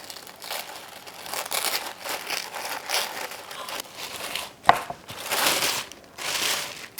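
A Cloth and Paper subscription box package of journal inserts and cards is opened, with bursts of crinkling paper and plastic rustling, a sharp snap or tear midway, then more crumpling up close.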